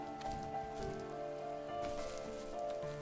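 Steady rain falls in a cozy video game world about a fox at Christmas, a soft continuous patter under a faint melodic music bed, with no voices.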